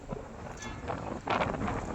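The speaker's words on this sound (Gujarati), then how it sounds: "પવનની સાથે ઘણી માત્રાઓમાં ડસ્ટ ઉડી રહી છે" Strong wind carrying dust across open ground at Bhachau buffets the microphone in low rushing gusts, fairly faint and brief, swelling toward the end.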